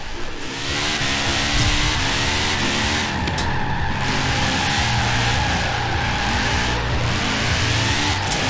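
Audi RS4 drifting in Forza Horizon 4, its engine roaring steadily with squealing, skidding tires over a continuous loud stretch, no talk.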